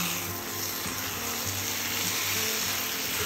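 Marinated prawns with cut potato are stirred into a sizzling onion-tomato mixture, a steady close frying hiss with soft scraping of the spoon throughout, no voices.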